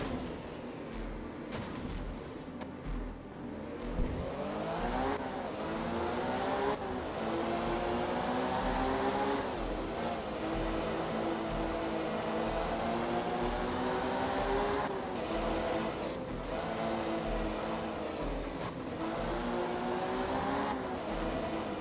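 Rally car in the video game Art of Rally, engine revving and shifting through gears with rising and falling pitch sweeps, loud and continuous across the whole stretch.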